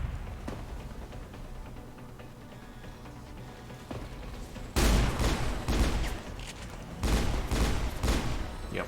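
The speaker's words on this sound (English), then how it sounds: "they're starting to fire on us" Gunfire in the video game XCOM 2 comes in two loud bursts of rapid shots after a quieter stretch of low rumble.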